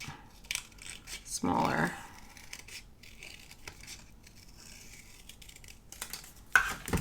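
Scissors cut paper eyes out for a junk journal page, a short rustling snip and crinkle of paper followed by quieter handling and a sharp click, with someone speaking softly.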